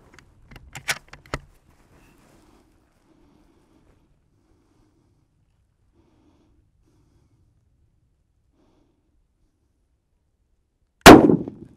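A few small clicks and handling noises from a Howa Oryx 6.5 Grendel rifle, then a long quiet pause before one loud, sharp shot at a paper target with a short ringing tail.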